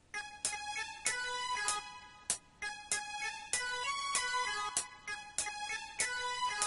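Synth lead and strings theme programmed in FL Studio, a bright repeating melodic phrase with plucky, bell-like attacks in a steady rhythm, moderately quiet and alone with no voices.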